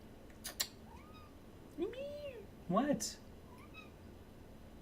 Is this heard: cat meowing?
yes